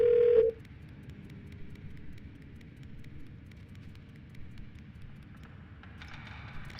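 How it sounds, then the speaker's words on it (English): A parser device in the Brokenskull Bay: Bilgewater Falls level of a video game gives a short, loud, steady phone-like beep, followed by quiet game ambience with faint ticks. "the thing that sounds like a phone is just a parser"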